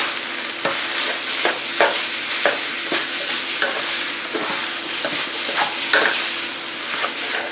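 Green onion and green chili pepper stir-fried in a hot pan for pancit, a steady sizzle broken by repeated scraping clicks of a utensil at an uneven rhythm, close and fairly loud with no talking.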